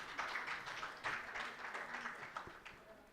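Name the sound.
audience applause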